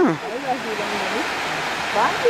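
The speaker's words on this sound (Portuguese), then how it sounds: "Nossa, a cachoeira é legal lá." A waterfall in Capitólio, Brazil, hisses as a steady broadband wash of falling water throughout, with voices talking over it.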